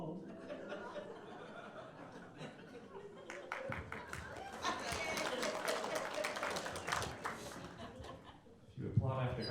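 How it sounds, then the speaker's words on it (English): Comedy-club audience at a musical stand-up special applauding and chuckling, a steady wash of clapping and scattered laughter building through the middle, with some murmuring and a brief vocal bit near the end. "If you applaud after every line, this will be a very long song."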